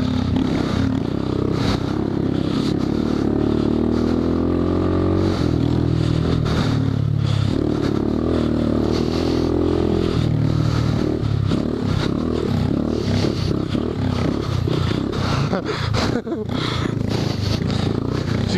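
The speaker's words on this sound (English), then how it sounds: "Just wheelie the whole way through." Honda Grom pit bike on a motocross pit track, engine droning loud and steady through whoops with revving surges, rattles and scrapes from the chassis, voices talking over it.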